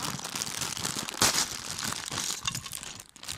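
A crinkly plastic Lego package being torn open by hand, with continuous close crumpling and crackling and a sharper rip in the middle.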